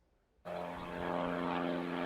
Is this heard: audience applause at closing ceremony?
no